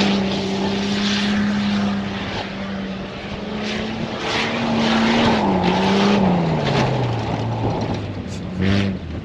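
A Ram TRX truck drives on a beach on the Arabian Gulf coast in four-wheel drive. Its engine drones steadily and loudly and rises and falls in pitch as it revs, with a short burst near the end.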